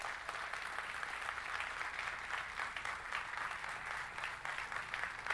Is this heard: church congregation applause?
yes